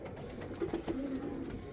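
Pigeons coo softly near their nest holding eggs and a newly hatched chick, a few low throaty coos rising over a quiet hum.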